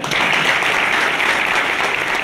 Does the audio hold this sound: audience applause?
yes